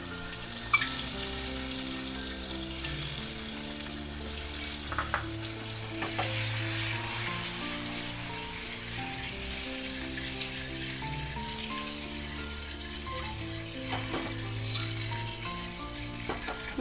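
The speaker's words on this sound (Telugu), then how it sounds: "చిటికెడు పసుపు యాడ్ చేసుకొని అందులో ఎగ్స్ ఫ్రై చేసుకోవాలన్నమాట" Eggs fry in a pan with a pinch of turmeric, a steady bubbling sizzle and crackle heard close, with occasional light clinks from stirring and background music underneath.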